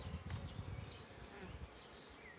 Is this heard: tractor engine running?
no